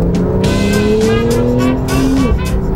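A Porsche 911 C4S with the Sport Chrono package accelerates out of a turn on a Southern California canyon road, the engine droning loud and close with a rising pitch that steps down at a gear change.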